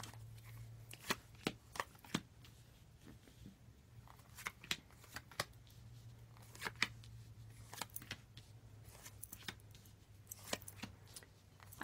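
A deck of tarot cards is shuffled quietly up close, with a run of irregular soft riffling snaps and flicks over a faint, steady background hum.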